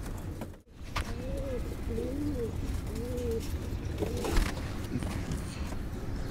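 Pet fancy teddy pigeons cooing in a home loft setup, several soft rolling coos repeating in phrases at close range over a steady background hum.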